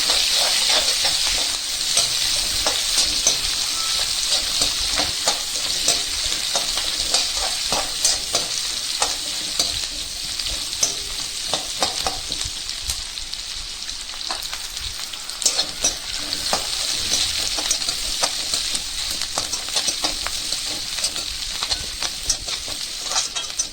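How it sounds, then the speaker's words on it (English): Ten chopped shallots sautéing in a pan for a manathakkali curry, a loud continuous sizzle with frequent spatula stirs and scrapes, close and unbroken, no voices. "Give it all a good mix till the onion gets translucent"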